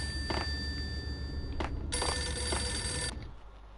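A telephone rings in the video game Max Payne, two short bursts and then one longer ring, clear and fairly close over a low steady hum before it cuts off.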